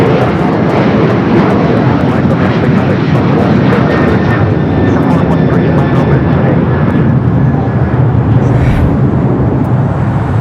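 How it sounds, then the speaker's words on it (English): An Air Canada Boeing 787-8 Dreamliner arrives at Los Angeles airport, its jet engines a loud, sustained roar close by and steady throughout, with no voices over it. "Do have Air Canada Flight 785 coming from Toronto, a 787-80 Dreamliner."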